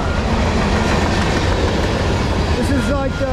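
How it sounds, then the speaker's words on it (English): A CSX freight train rumbles steadily past nearby, a loud continuous roar of wheels on rails, with a faint squeal of metal near the end. "This is like the fourth train in about an hour."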